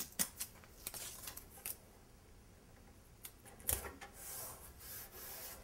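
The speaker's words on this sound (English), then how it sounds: "Now we're also going to tape the hinges." Painter's tape being pulled and pressed onto kitchen cabinet hinges during prep for painting, giving a few faint, brief ripping and rubbing rasps with quiet gaps between, close by and with no talking.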